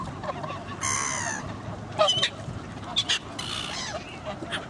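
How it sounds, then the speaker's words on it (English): Coots calling outdoors, a few odd honking, squeaky bursts at moderate distance over a steady background hiss. "So then coots make a weird noise."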